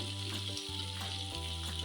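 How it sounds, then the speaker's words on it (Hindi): Potato slices fry in oil with cumin seeds, a faint, steady sizzle with a low background hum over this short stretch. "आलू को तेल में थोड़ा सा फ्राई करेंगे"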